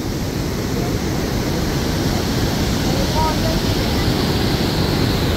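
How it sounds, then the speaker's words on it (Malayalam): Broad steady roar of high-pressure river water rushing near Athirappilly after a dam upstream was opened, a dense continuous wash heard close and loud throughout with no talk. "പെരിങ്ങൽക്കുത്ത് ഡാം തുറന്ന കാരണം കൊണ്ട് ഈ വെള്ളത്തിൻ്റെ പ്രഷർ കൂടുതലാണ്."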